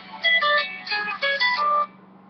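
Phone ringtone playing as a short bright electronic melody in several bursts, fairly close and clear, then cutting off.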